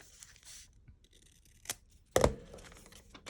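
Paper being cut with scissors in a papercrafting setting, a few quiet snips and rustles leading to one sharp, louder crisp cut, then soft handling noise.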